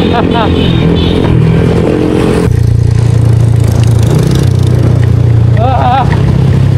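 A motorcycle rides along a road on a long trip from Manila to Bicol, its engine humming loudly and steadily throughout, with a voice heard briefly at the start and again near the end.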